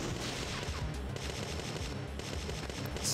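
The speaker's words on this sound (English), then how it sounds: "I guess I'm shooting you." Rapid automatic gunfire rattles in the video game Parasite Eve 2, a dense, continuous burst of shots that runs steadily for a few seconds, fairly faint and without talk.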